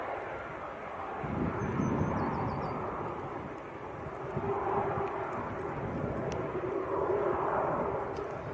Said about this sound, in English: There's another aircraft on finals as well.